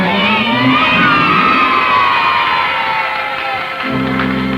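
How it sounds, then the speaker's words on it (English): A crowd cheers loudly for Rudy Kazudi, with high shouting voices and whoops forming a constant roar close up, then a sustained tone breaks in near the end. "All hands are working to cheer on Rudy Kazudi."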